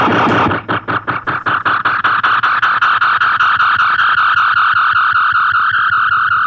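A DMB Pedals Lunar Echo delay pedal with its tails turned fully up keeps repeating after the playing stops, giving a steady, rhythmic stream of distorted echoes that blur into a sustained wash.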